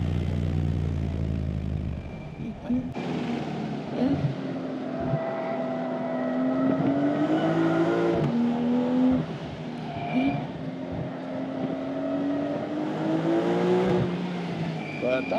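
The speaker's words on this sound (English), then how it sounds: "The Soul exhaust sounds really nice, actually." A new Porsche 992.2 Carrera fitted with a Soul exhaust and particulate filters revs on a race track, engine rising and falling through gear changes while the driver talks over it from inside the car.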